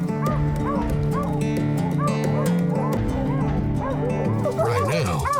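Several hounds bay and bark loudly and continuously nearby while hunting a mountain lion in the Rockies, their calls overlapping in a rough, excited chorus.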